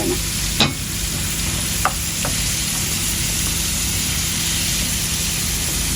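Potatoes frying in a pan for kacchi biryani, a steady close sizzle with a few sharp scraping stirs near the start.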